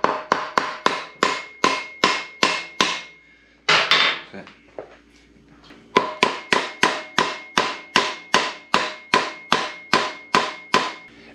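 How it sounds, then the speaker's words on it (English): Rapid series of sharp, hard taps of a plastic-ended hammer on a KTM Duke 790 motorcycle brake caliper, about a dozen in quick rhythm, a brief pause with a scrape, then another even run of taps. "I'm just gonna give it a gentle tap with a plastic-ended hammer"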